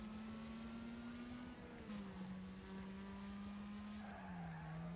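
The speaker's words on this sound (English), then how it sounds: "I'm just slamming into a wall then." Race cars roar in a Wreckfest demolition derby: a steady, loud engine drone with skidding tires runs throughout, and a car slams into a wall partway through, with no voices.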